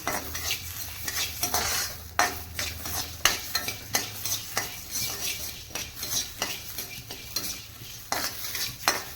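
Sorghum millet roasts in a pan, stirred with a utensil in a quick, steady rhythm of scraping and clinking over a soft dry sizzle, close by with no voices.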